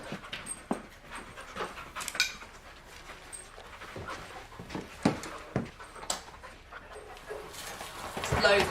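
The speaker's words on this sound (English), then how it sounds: "Send the dog in." A police dog pants and sniffs during a raid on a rented flat, with quick rhythmic breaths, small whimpers and shuffling close by, faint voices underneath.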